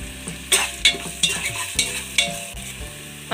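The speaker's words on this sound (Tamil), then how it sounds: "இஞ்சி பூண்டு பேஸ்ட் போட்டுக்கலாம்." Ginger garlic paste frying with softened onions for chicken biryani, a spoon stirring in short rhythmic scrapes against the pan over a constant close sizzle.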